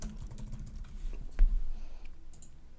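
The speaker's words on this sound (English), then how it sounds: "we'll just type in developers" Typing on a computer keyboard while building an app in Code.org App Lab: a quiet, quick run of soft key clicks at close range, with a single slightly sharper tap partway through.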